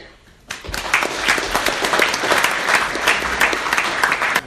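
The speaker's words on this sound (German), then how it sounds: "bitte begrüßen Sie mir ganz herzlich den Ueli Hess" An audience bursts into warm applause to welcome a speaker to the stage, a dense, loud, steady clapping that starts abruptly and carries on without letting up.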